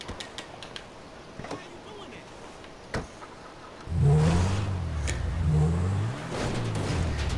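A car reverses in Grand Theft Auto V, its engine rising into a steady low game drone and then holding, with a few clicks and brief sounds before it. Someone talks over the engine.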